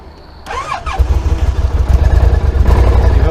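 An engine is started on its first try after sitting. A brief whirring crank leads straight into a loud, close, rumbling catch, then a steady throbbing idle.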